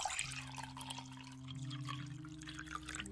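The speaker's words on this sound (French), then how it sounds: "en arrivant dans la cuisine, tu commences à te servir ton verre d'eau." Water is poured into a drinking glass in a kitchen, a quiet continuous trickle with a rising filling tone lasting a few seconds.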